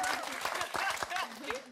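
A studio audience at a French comedy talent show applauds steadily, a dense wash of clapping lasting throughout, with voices talking over it.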